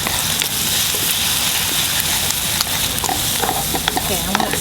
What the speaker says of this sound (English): we're going to cook the eggs right on the side here